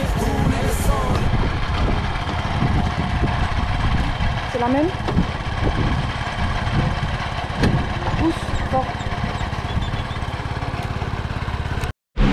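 Motorcycle ride on a road trip on Rodrigues island, with a constant engine drone and rushing wind noise running throughout, loud and close, while people speak briefly over it before an abrupt cut at the end.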